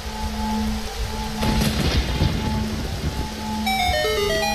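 Rain returns over a dried-up desert oasis in Zelda: Ocarina of Time after the Song of Storms: a steady hiss of rain swells in with a low rumble, then a run of bright, chiming notes descends near the end, with no voices.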